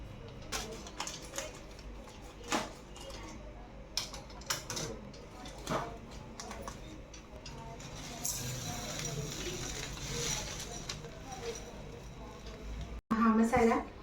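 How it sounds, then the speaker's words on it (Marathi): Spice masala with turmeric roasting in a pan for homemade pickle, giving a steady soft sizzle with scraping and stirring clatter throughout, a busier stretch of frying noise midway and a loud burst near the end. "हा मसाला मस्तपैकी खमंग असा गरम होत आहे"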